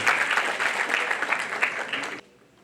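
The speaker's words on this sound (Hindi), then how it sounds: "एक बार जोरदार तालियों के साथ मैम का अभिनंदन करें।" Warm applause from a college audience at Hansraj College welcomes guest Sudha Murthy. The clapping is dense and steady for about two seconds, then cuts off abruptly into near silence.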